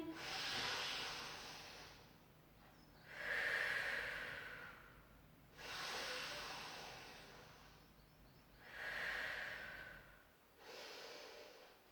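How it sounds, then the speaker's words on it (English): Slow, audible breaths drawn in and let out during a gentle Pilates session for recovery after breast cancer, about five long, hissy breaths evenly spaced and close up, with no talking. "Take a breath in."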